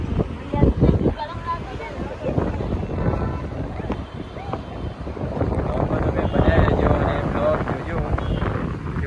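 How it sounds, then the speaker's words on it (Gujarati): Gusty cold wind buffets the microphone in a steady rumbling roar, with people talking underneath. "એટલો ઠંડો પવન આવ્યો"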